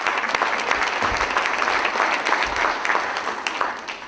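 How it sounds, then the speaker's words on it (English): Applause from an audience of Rotary president-elects at a training seminar in Nashville, a dense, steady clapping that fills the room from start to finish with no voices over it. "How about a round of applause for my Twitter friends?"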